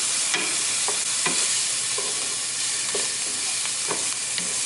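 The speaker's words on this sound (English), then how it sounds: "Teaspoon of minced garlic. And then just let this saute for like 30 seconds." A teaspoon of minced garlic sautéing in a pan sizzles steadily and brightly, broken by regular clicks and scrapes of a utensil stirring, close up and without talk.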